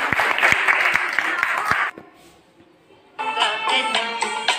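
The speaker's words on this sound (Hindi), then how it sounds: "वेरी गुड, ताली बजाइए सबसे।" A group bursts into brisk clapping for about two seconds during a parcel-passing game, followed by a pause and then a voice speaking.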